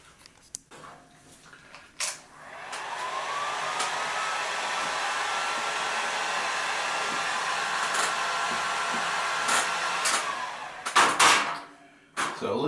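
A heat gun blows with a steady, close whooshing roar while heating vinyl wrap on a motorcycle helmet, with a few clicks and knocks before and after.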